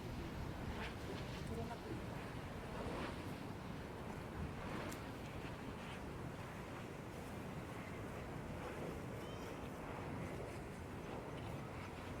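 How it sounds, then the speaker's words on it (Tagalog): Strong wind buffets and rushes continuously at a campsite overlook in Bangui, Ilocos Norte, with a roaring, surf-like wash throughout and no clear voices over it. "Mahangin pa."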